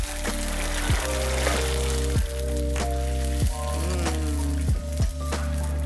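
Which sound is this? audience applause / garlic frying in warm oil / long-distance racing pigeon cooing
garlic frying in warm oil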